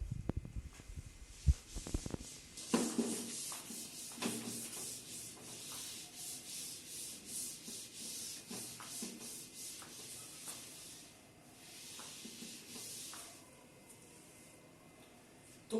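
A classroom board is wiped clean of handwritten notes during a physics lesson. Steady, rhythmic scrubbing strokes run close and continuously for about fifteen seconds after a few louder knocks at the start.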